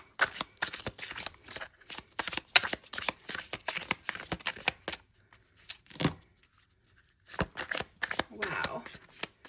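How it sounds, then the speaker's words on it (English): Tarot cards shuffled by hand at close range, with quick riffling bursts coming in rapid clusters, a short pause, then more shuffling. "We're going to shuffle."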